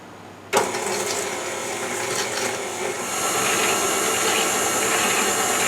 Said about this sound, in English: I'm going to let these cream together for a couple of minutes until it's very creamy, light, and fluffy.